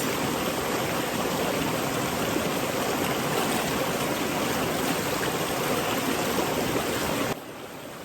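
River water in Jamaica rushes in a steady, loud, close wash of hiss and splash where someone is bathing. It goes on unbroken, then drops suddenly to a quieter flow near the end, with no talk.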